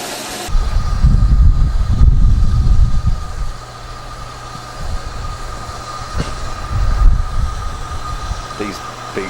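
A B1 steam locomotive leads a train out of Whitby on the North Yorkshire Moors Railway. Heavy rumbling chuffs rise and fall over a steady hum, with wheel clatter and a few sharp clicks, recorded close at hand.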